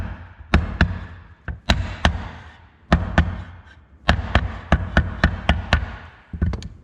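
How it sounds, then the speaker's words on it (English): Hammer tapping on a piece of wood to seat a seal into an engine cover while assembling a 5.3 LS engine: about twenty sharp, close strikes in uneven bursts, loud and with no talk. "I'm gonna grab a piece of wood, and I'm gonna tap it in with a hammer as well."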